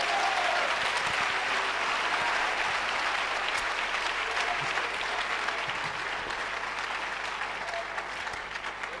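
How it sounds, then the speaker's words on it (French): A worship congregation breaks into sustained, loud applause for the Lord: a thick, even wash of many hands clapping that holds steady throughout, easing off only slightly toward the end. "Applaudissez pour le Seigneur."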